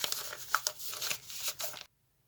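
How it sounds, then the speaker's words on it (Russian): A paper surprise packet is torn and opened close up, giving a few seconds of crinkling and ripping before the sound cuts to silence. "давайте открою пакетик"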